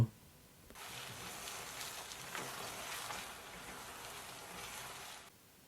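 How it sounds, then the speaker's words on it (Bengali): Raw mango pieces with chilli and turmeric fry in oil, a soft, steady sizzle that starts abruptly, holds for several seconds, then cuts off; quiet and close, with no speech. "এরপর আমরা আমগুলোকে আরও 1 থেকে 2 মিনিটের মতো ভেজে নেব।"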